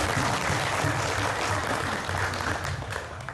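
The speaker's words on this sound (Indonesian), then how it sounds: "Oke, tepuk tangan dulu untuk kita semua." Dense, loud applause fills an evening youth forum gathering, a continuous wash of clapping from a crowd with no voices over it.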